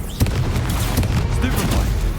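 Spell blasts in the Hogwarts Legacy video game hit as a series of booming, crackling bursts in quick succession, with a voice shouting over the impacts.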